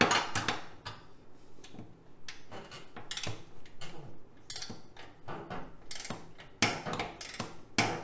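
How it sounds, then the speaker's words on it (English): A torque wrench on a Kubota Z725 zero-turn mower, during a transmission fluid and filter change, gives a run of quiet, irregular metallic clicks and ratcheting ticks, close by with no talking. "now let's put the torque wrench that I already have set to the right torque setting"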